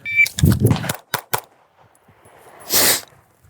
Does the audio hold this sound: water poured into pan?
no